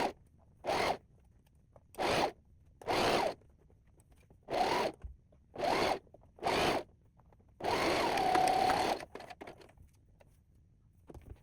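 A sewing machine stitches the crotch seam of stretchy bell bottom tights in short separate bursts, the last one longer, with quiet pauses between runs.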